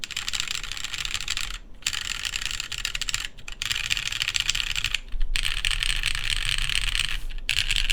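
Steady, fast typing on a plateless mechanical keyboard fitted with DCS-profile PBT keycaps and brown tactile switches, a dense run of close clicks and clacks with a few brief pauses, no voices.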